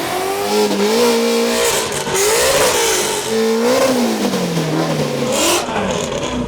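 A modified Ford Mustang GT350 V8 engine revs hard several times at a car show, pitch climbing and falling in repeated surges, loud and close with no talking.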